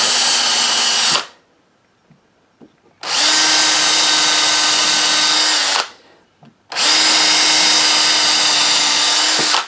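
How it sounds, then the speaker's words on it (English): Close, loud power drill running pilot holes into wooden boards, three long steady whirring bursts separated by brief pauses with faint clicks. "Now they're marked, I can drill them a little bit more"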